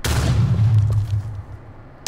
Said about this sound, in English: And then there's the blunderbuss.